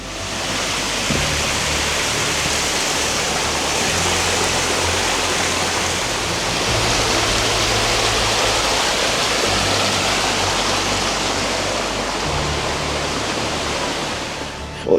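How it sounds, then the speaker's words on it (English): A small side creek in Alaska rushes steadily over its bed, giving a dense, unbroken wash of water noise. It stays close and loud and holds an even level from start to finish, with no voices over it. "getting me some footage of a little side creek"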